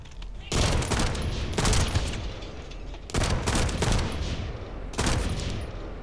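Heavy shotgun blasts in the sci-fi shooter game The First Descendant, three or four loud, sustained volleys separated by short pauses, close and dominant with no talking.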